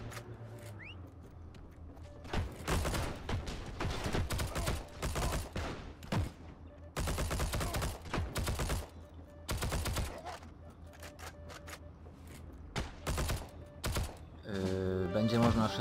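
Gunfire in the Heroes & Generals video game, with dense automatic bursts and fusillades coming in several loud clusters, separated by quieter gaps, alongside a speaking voice.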